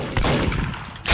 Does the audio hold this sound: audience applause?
no